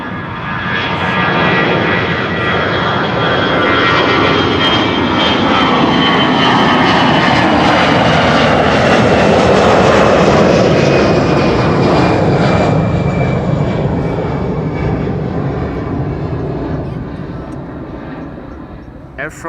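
An Air France jet airliner departs from runway 24 at Amsterdam Schiphol, its loud engine roar swelling with whining tones, peaking mid-way, then easing off as it moves away. Faint talk sits under the noise.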